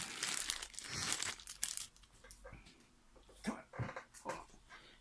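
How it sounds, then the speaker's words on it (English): Plastic crinkles and rustles up close in loud bursts, then fades to quieter scattered crackles and crunches. "Drop a plastic bag."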